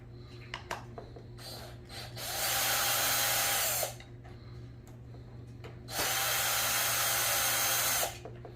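A power drill backs screws out of a Traxxas Stampede RC truck chassis in two sustained whirring bursts of about two seconds each, separated by a pause filled with small clicks and handling noise, close and fairly loud.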